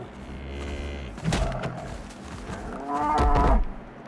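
A Minecraft cow moos twice in a hardcore survival world played on PS5, low drawn-out calls with harmonic lows, the second louder and nearer, with faint game ambience between.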